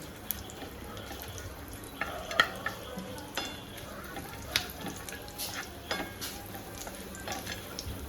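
Grated coconut fries quietly in a pan, a soft sizzle punctuated by scattered clicks and scrapes of stirring, low and close.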